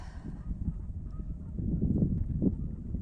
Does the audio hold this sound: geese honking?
yes